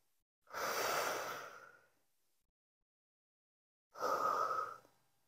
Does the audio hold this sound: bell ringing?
no